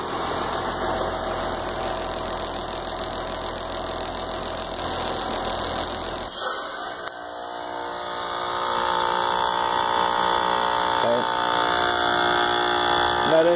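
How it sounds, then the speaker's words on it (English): A heat pump's reversing valve shifts into defrost mode on an outdoor unit in freezing conditions: a steady machine hum breaks off in a sudden loud whoosh and clunk, then a quieter tonal hum carries on. "That noise that you heard is what we call the reversal valve shifting"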